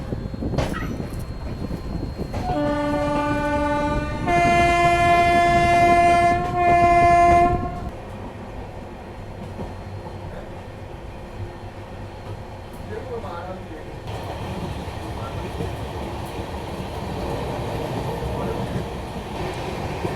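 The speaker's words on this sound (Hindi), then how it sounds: "सिर्फ 5 मिनट ट्रेन यहाँ पे रुकी और अपना डिपार्चर हो गया मऊ जंक्शन रेलवे स्टेशन से।" Gorakhpur-Varanasi intercity express train pulling out of Mau Junction station, its horn sounding in long loud blasts, then the steady rumble and rattle of the moving carriages, with faint voices in the background.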